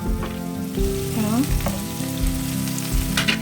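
Tomatoes cut into thin strips are added to vegetables already frying in a pan, giving a loud, continuous sizzle with brief clatters and a faint tonal whine over it, without speech.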